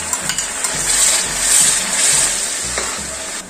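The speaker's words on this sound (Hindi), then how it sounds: "अब इसमें हम पिसा हुआ प्याज डाल देंगे" Ground onion with whole spices and chili fries in hot oil for chicken masala, giving a steady hiss with soft rhythmic thumps of stirring underneath.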